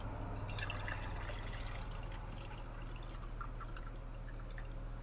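Tap water pours steadily into a container, a continuous close splashing trickle over a low steady hum.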